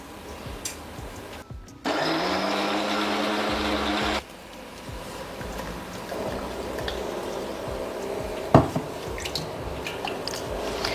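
A kitchen mixer grinder grinds tomatoes for a curry, with one loud whirring burst of about two seconds amid quieter kitchen clatter and drips.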